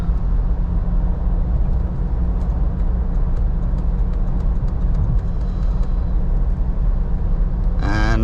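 Inside a Toyota Fortuner Legender 4x2 cruising on the highway at 100 km/h, a steady broad rumble of road and engine noise at about 1600 RPM, constant and fairly loud with no break.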